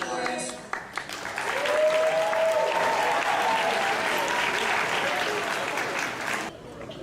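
A school Founder's Day assembly audience claps and cheers, swelling into sustained loud applause from the crowd after a brief opening, with a voice briefly audible over it, then cutting off near the end.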